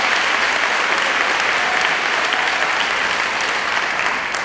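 Sustained applause from an audience at a speech, a steady dense wash of clapping that stays loud and even throughout without talk.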